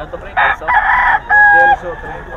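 A young rooster, a stag, crows loudly nearby at a poultry market in Bocaue, a short, strained crow broken into a few segments, with some clucking around it.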